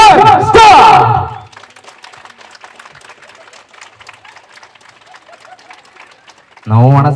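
Wedding guests break into scattered rapid clapping and crowd noise, quieter and crackling in the middle of the moment, bracketed by loud nearby voices speaking at the start and end.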